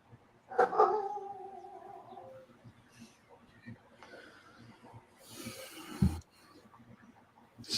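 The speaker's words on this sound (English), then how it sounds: "Somebody's dog is barking," A dog barks in the distance, with a few brief calls standing out over faint background noise while no one speaks.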